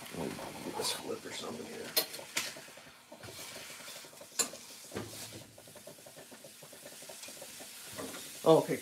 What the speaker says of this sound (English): Oh, the bacon's sizzling.